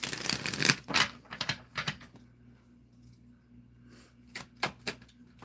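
Tarot cards for a reading are handled and drawn, with crisp clicks and brief riffles in short bursts separated by a quiet pause, heard close and without talking.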